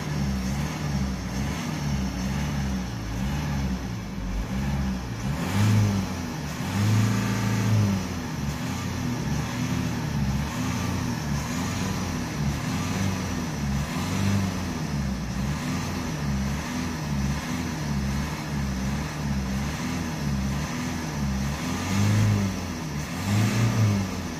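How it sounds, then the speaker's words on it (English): A Ford Galaxy engine running steadily with several moderate revs rising and falling, fairly close, no talking. "we're gonna give this vehicle a few revs, just a few slight revs"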